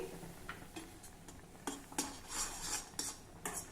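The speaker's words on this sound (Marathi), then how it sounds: "हे मिक्स करून घेऊ" Rice flour being stirred into boiling water in a pot: a series of clinking, scraping spoon strikes against metal, irregular and close, with no talking.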